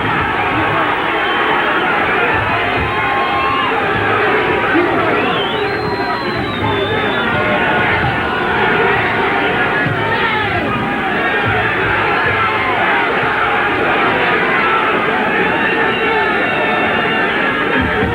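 A boxing crowd at a televised fight cheers and roars continuously, a dense loud wall of noise throughout with a commentator's voice on top.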